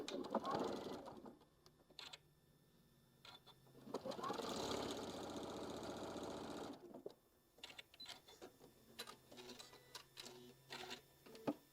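A sewing machine stitches down a quilted table runner in a steady whirring burst, bracketed by quiet talk and small handling clicks before and after.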